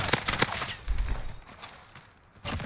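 Rapid gunshots in Warzone on Rebirth Island, a quick string of sharp cracks close up, fading to quieter game sound before another shot at the end.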